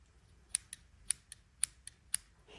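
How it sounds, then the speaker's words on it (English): Scissors with a protective tip cover are handled close up, giving several sharp, crisp clicks and snips in an uneven rhythm against quiet. "And we got our scissors."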